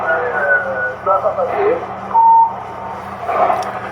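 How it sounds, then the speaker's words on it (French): Short electronic beep of a ham radio transmission, a steady tone heard once mid-clip over a noisy radio channel with muffled voice audio and hum before and after it. "le bip, il passe toujours avant l'audio"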